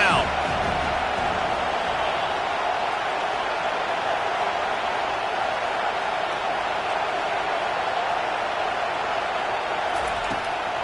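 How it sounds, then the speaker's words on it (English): At a Clemson vs Miami college football game, the stadium crowd roars as a dense, sustained wash of cheering that holds steady and loud throughout, with faint commentary-like voices mixed into the din. "Decibels rising as the crowd gets behind this defense on 3rd down."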